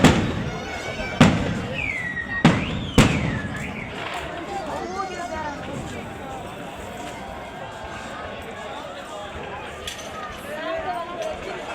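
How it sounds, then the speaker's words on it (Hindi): Outdoor fireworks at Nankana Sahib give three or four loud, sharp bangs in the first few seconds, with a rising whistle. A steady murmur of crowd chatter and voices follows. "यहाँ पर फायरवर्क्स बहुत अच्छे लग रहे थे"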